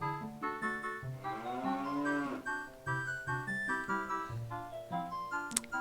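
Cow moos rendered as synthesized game sounds in The Legend of Zelda: Ocarina of Time, layered with bright melodic music tones; repeated stepped moo-like calls fill the stretch, loud and close, with a sharp chime near the end.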